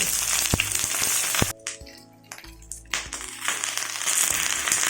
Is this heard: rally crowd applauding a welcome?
no